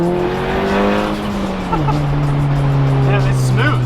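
A Honda EG Civic engine with a straight dump exhaust drones loudly and continuously nearby, its smooth tone easing down in pitch partway through and then holding steady.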